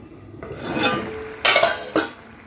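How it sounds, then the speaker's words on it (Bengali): A cooking pot lid is lifted off a simmering chicken curry: a scraping metallic rattle, then two sharp clanks close up, with no voices. "এবার আমি এটাকে ঢাকনা খুলে দেখবো যে কি পরিস্থিতি।"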